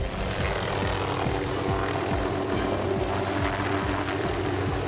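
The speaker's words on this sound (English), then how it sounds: "The helicopter lands, the lifeguards get onto the side of the skids" A Huntington Beach lifeguard rescue helicopter near a beach runs its engine loud and close, with steady rotor chop over a constant engine roar and no voices.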